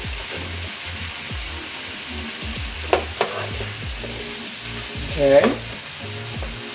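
Sofrito sizzling in a pan of chicken stir fry, a constant frying hiss broken by a few sharp utensil clinks and a brief louder spurt, with a short spoken word over it.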